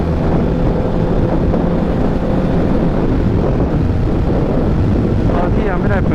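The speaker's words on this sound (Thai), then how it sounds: "เจออะไรเขาเรียกอะไรนะลมหมุนนะฮะลมหมุนอย่างแรงเลยนะ" A strong whirlwind batters a rider on a Honda CBR650F motorcycle, sending a loud, continuous wind roar across the microphone for the whole stretch.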